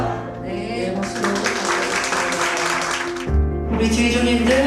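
A burst of applause welcoming ministers at a Korean Friday all-night prayer service, a dense patter of clapping over a steady tonal hum that drops away and then returns.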